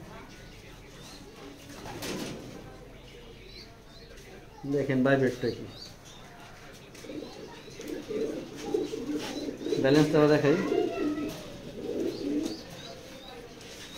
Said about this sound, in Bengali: সুন্দর একটা কবুতর